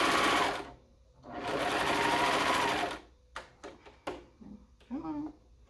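A serger sewing machine chains off thread beyond the fabric edge while hemming, two loud sustained whirring bursts separated by a pause, followed by short clicks, handling noises and a brief voice.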